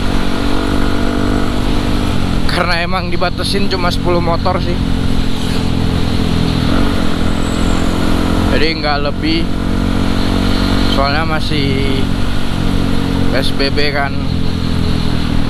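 Group of about ten Yamaha WR155R motorcycles on a Sunday morning ride near Bandung, engines droning steadily throughout with a continuous rumble, while a rider talks over the noise.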